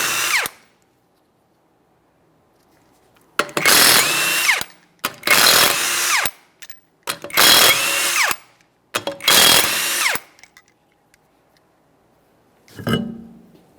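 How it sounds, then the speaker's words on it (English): A power tool spins off 21mm lug nuts from a Toyota Corolla rear wheel in four loud, close bursts of whirring with short pauses between, ending with a lower thud. "you're going to remove all 5 of your 21mm lug nuts and we can get the wheel off of here"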